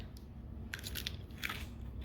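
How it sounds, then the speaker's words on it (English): Crispy air-fried breaded chicken crunches as it is bitten, in a few sharp, close crackles over a quiet background, with no talk. "You hear that crunch?"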